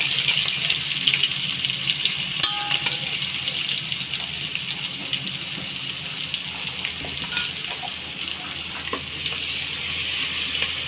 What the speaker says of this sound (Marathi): हे वाटणही छान असं परतून घ्यायचं कच्चेपणा जाईपर्यंत